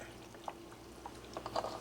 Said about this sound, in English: Put our 2 boxes of chicken stock in there.